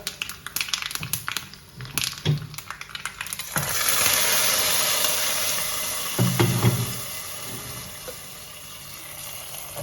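Hot coconut oil with fried mustard seeds, fenugreek, curry leaves and green chillies is poured into a Guruvayur rasa kalan curry. Utensil clinks give way to a sudden loud, close sizzling hiss that slowly fades over several seconds.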